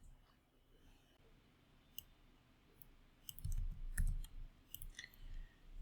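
A computer mouse clicks several times, faint at first and then a quick cluster of crisp clicks, close up over soft low thumps and room noise.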